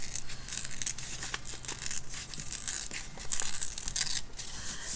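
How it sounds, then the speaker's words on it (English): Folded paper torn slowly by hand, a run of crisp, crackling rips that go on continuously for several seconds, close up and fairly loud. "you can either cut it with scissors or you can rip it if you rip very carefully"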